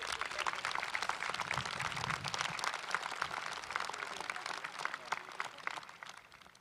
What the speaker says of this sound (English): Please join me in a round of applause for her.